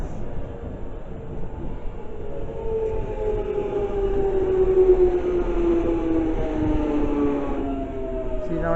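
A London Underground Jubilee line train at Dollis Hill station, a sustained rumble with a rising and falling whine of traction motors as it rolls through, no talk.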